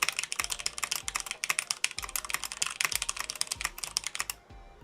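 Fast, continuous clacking of a computer keyboard during a typing speed test, close and crisp, with rapid keystrokes and occasional heavier thumps, no voices.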